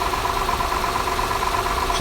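A 2008 Honda Accord V6 engine idles with a steady, even drone and a faint continuous rattle from the valves, close up, with no talking.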